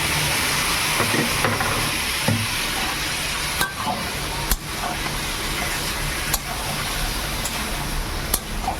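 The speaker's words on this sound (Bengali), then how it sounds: "গাঁদাল পাতাটা এখন দিয়ে একটু কষিয়ে নেবো" Gandal leaves sautéed in a pan, a continuous loud sizzle with occasional sharp scrapes and clicks of a utensil stirring, close up throughout with no talking.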